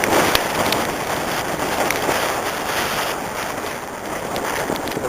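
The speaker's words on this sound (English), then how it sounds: "The wind again is picked up, so the audio might be a problem." Strong wind gusting across a beach at Llandanwg, roaring steadily against the microphone as broadband buffeting with no voices, continuous and close throughout.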